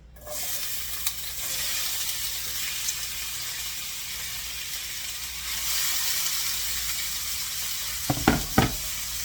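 Garlic sauteing in a pan for a shrimp and white bean salad, a steady close sizzle with scraping stir sounds, ending with a few sharp knocks and clatters from utensils, no voices.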